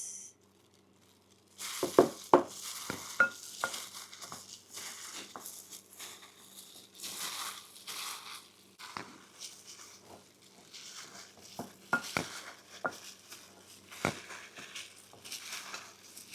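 Spareribs being stirred in coating mix, with soft crunchy squishing and scraping strokes that come up close and irregular after a short quiet start, mostly without talk.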